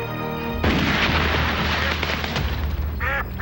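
A homemade gun fires in a 1993 film trailer: one loud, booming shot cuts off a held musical tone and rolls into a rumbling decay, followed by a short, squawking electronic sound.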